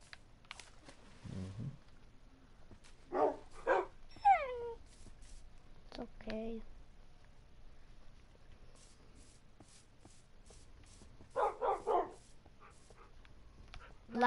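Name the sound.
dogs barking and whimpering in Minecraft video game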